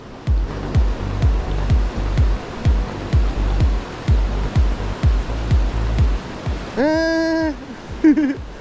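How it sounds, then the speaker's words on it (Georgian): A mountain stream in the Adjara mountains, on a rainbow trout spinning trip, rushes with steady broadband noise, while regular heavy footfalls thud through it and a short tonal, voice-like sound rises near the end. "ნაკადული."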